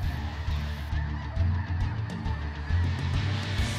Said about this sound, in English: deafening sound of a flock and the sheer number of birds make these hunts so unique